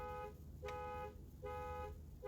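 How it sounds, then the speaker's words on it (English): A car alarm blares in repeating electronic bursts, roughly three cycles of a tonal pulsing siren, faint and a little distant. "the car alarm starts going off"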